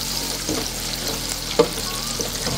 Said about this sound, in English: now we're just doing a flash fry